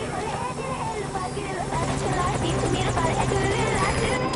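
An enemy helicopter flies in a video game cinematic, its steady rotor drone loud and continuous throughout with no break.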